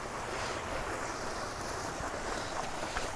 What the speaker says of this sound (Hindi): ये देखिए ये पानी यहाँ से गिर रहा है